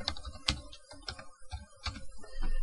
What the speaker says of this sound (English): I'm going to type in my password.